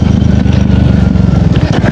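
A KTM Duke 390 motorcycle engine runs steadily and loud throughout, a dense low rumble with no clear revving changes.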